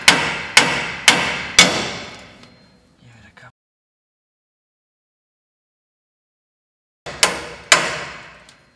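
A hammer striking the nut on a tapered kingpin pin of a 1932 Ford BB truck, four loud ringing metallic blows in a quick even rhythm, then silence, then two more blows, close up.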